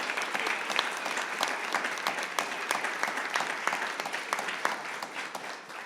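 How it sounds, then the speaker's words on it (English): An audience claps at a student pitch competition event, a moderately loud burst of applause with distinct individual claps standing out and the sound thinning slightly toward the end. "Let's give them a big round of applause."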